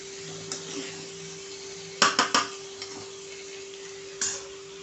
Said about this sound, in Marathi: मसुरा छान फ्राय करून घ्यायचा आहे 1-2 मिनिटं।